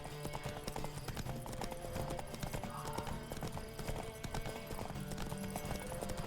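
Horse hooves gallop at speed through a race in The Witcher 3, a continuous rapid clip-clop set against game music and background noise, moderately quiet.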